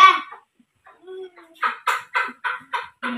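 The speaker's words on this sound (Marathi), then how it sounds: "ती कोंबडी आली त्याच्यावर झापडी ठेवली." A hen clucks in a series of short, evenly spaced, fairly loud clucks following a brief voice and a quiet pause.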